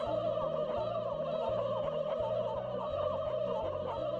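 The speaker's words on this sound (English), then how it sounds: "Where have all these turkeys come from?" Turkeys gobble repeatedly in the South Park video game on Nintendo 64 and PlayStation, a steady series of rhythmic gobbling calls running continuously over a game music loop, moderately loud, with no talking.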